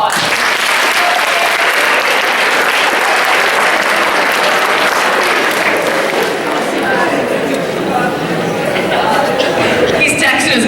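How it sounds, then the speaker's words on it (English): Dense, loud applause from a school audience at a youth resilience talk, filling the whole stretch evenly with a few cheers and murmurs mixed in. "Give him a round of applause."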